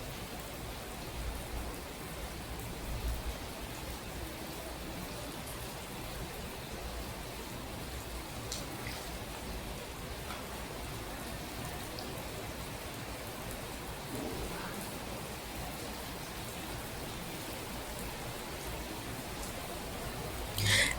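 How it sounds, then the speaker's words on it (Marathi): Heavy rain falling steadily and densely for the whole stretch, a constant loud hiss of drops on surfaces with no break and no voices. "खूप सगळा असा पाऊस यायला लागला"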